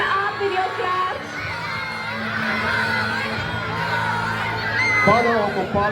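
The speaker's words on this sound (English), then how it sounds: "Cheer them up with your claps." Children and a crowd shout and cheer during a school sports race, with sustained excited yelling that swells toward the end, and an announcer's voice is heard over it.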